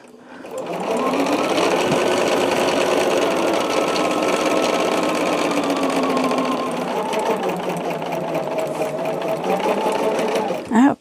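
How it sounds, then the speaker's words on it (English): A sewing machine stitches quilt block sets together in a long, steady, close mechanical whir that runs for about ten seconds and then stops with a brief clunk. "I'll sew the 2 sets of 2s together"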